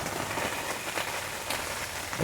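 Steady hiss of rain drumming on a tent during a storm at a backyard campout, continuous and close with a few slightly heavier bursts of drops.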